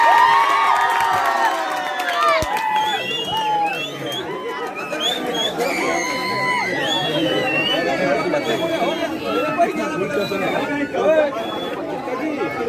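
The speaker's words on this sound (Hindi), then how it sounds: "देखो कितना भीड़, पूरा भीड़ भरा हुआ है" A large, dense crowd at a Bhojpuri film shoot chatters and shouts continuously, with scattered cheers and children's voices rising out of the steady outdoor babble.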